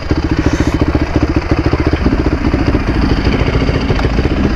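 A motocross dirt bike engine runs close and loud with a fast, rhythmic chugging pulse, at first idling, then revving slightly higher and smoother toward the end.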